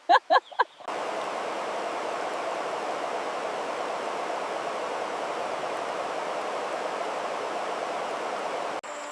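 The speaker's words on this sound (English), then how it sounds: "Look at that waterfall in the distance." Distant waterfall heard from a mountain viewpoint as a steady, even rush of falling water, soft and continuous for most of the span, with a few brief sounds just before it.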